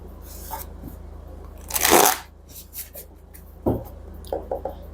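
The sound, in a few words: tarot cards being shuffled and rearranged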